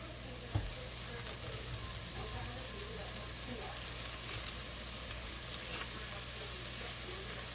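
Spaghetti ingredients fry quietly in a pan with a soft, steady sizzle and occasional faint stirring, with one brief knock near the start.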